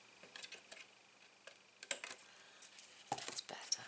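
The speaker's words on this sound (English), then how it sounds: "Quite hard to get in with the big scissors." Big scissors trimming the edge of a large gift box, a series of small, quiet clicks and snips close by, sparse at first and then clustered near the end.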